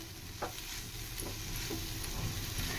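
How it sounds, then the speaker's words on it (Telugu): Cluster beans fry and sizzle in a pan over a medium flame, giving a steady close crackle with a few soft stirring scrapes; no voices. "మీడియం ఫ్లేమ్ పెట్టుకొని ఫ్రై చేసుకోండి"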